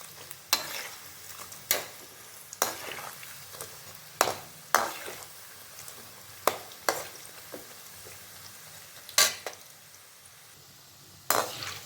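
Onions fry in a pan with a soft background sizzle, broken by a dozen sharp scrapes and clinks as a spatula stirs and turns them, and no one speaks.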